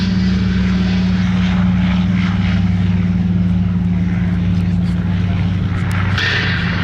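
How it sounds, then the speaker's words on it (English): A Yak-3 propeller fighter roars loudly and continuously with a deep engine drone as it takes off from a hard runway at the Duxford Battle of Britain airshow. "Getting airborne off the hard runway now, the Yak-3, that'll be back with us shortly."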